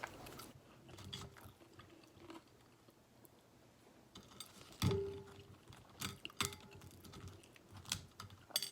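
Someone eating crunchy banana turon, with close, quiet crisp bites and chewing crunches scattered irregularly, including a louder bite near the middle, against a faint room background without talking.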